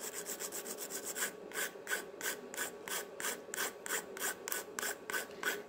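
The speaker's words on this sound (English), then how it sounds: "Now, I use just an ordinary file." A hand file is worked back and forth along the edge of a cast jam jar, giving regular scraping strokes at about two per second, close and fairly quiet with no voices.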